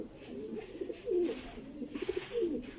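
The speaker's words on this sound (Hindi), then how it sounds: "ये लो जी भाईजान टैडी कबूतर" A Teddy golden pigeon, a champion show bird, coos in soft, low repeated phrases, with a few distinct coos rising above a quiet background.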